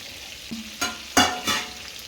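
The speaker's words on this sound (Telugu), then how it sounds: "ఉల్లిపాయ వేసుకుంటున్నాము." Onions hit hot oil in a pan for pav bhaji, giving a few short bursts of sizzling and stirring scrapes in quick succession, close and fairly faint.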